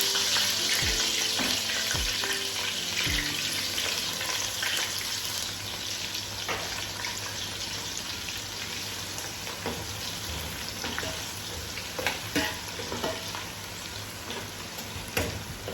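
Chopped onion sizzles and fries in hot oil in a pot, a steady close crackle with scattered ticks and soft stirring knocks throughout, no talking.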